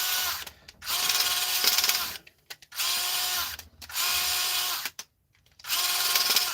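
A solar-charged cordless drill runs in four bursts of steady whirring with brief pauses between, backing out small Phillips screws from yokes; loud and close, no talk.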